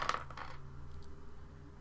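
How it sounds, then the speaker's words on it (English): A few dice land and rattle briefly on a table after a roll in a tabletop game, a quick cluster of small clicks at the start that settles into quiet, faint and close. "And then I bid a number of dice and then roll them."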